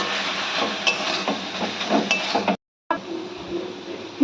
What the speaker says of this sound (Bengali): আদা বাটা দিয়ে ভালো করে মোচার সঙ্গে মিশিয়ে নিতে হবে।